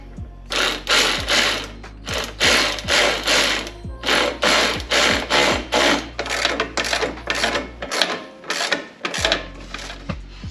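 A ratchet wrench threads a bolt while a Progress rear sway bar is installed on a Honda Civic EG hatchback, giving loud, close bursts of rapid clicking that repeat in short strokes with brief pauses.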